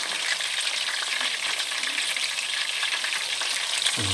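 Calamari (squid) rings fry in a pan of hot oil, a continuous close bubbling sizzle with light crackles and a faint stir near the end.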